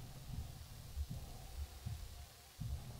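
Low, muffled heartbeat thumps pulse in a slow, regular rhythm, each beat a soft double thud, in a quiet ambient scene of the video game Sable.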